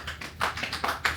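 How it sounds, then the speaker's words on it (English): Short burst of clapping from a small group at a social media maker competition, uneven taps rising in rhythmic waves over about a second, fairly close. "Round of super applause"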